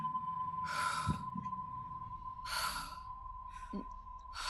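A voice mimics the heavy breathing of a large, round person slumped to one side, producing slow breathy sighs and exhalations in a few separate bursts over a faint steady tone.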